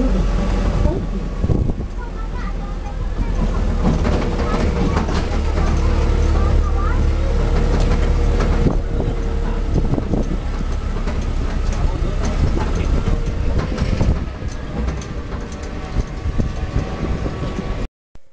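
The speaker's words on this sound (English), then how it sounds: "please remain seated while the tram is moving" Loud continuous rumble of the Singapore Night Safari tram rolling along, with engine drone and rattling throughout, close up.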